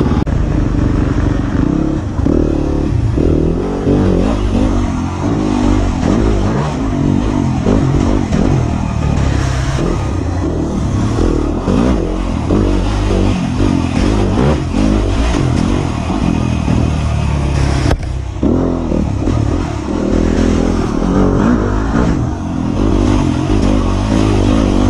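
A Suzuki motorcycle engine with an aftermarket pipe, revving loud and close for the whole stretch, its rough roar rising and falling with mechanical clatter and no talking.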